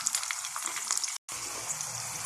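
Grated onion sizzles and crackles in hot oil in a pot for Egyptian koshari, with stirring scrapes and a brief gap midway; no voices.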